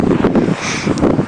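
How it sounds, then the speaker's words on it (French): Light wind blows outdoors on a cold Lapland morning, buffeting the microphone with loud rumbling gusts and rustle, no speech. "Il y a un petit peu de vent"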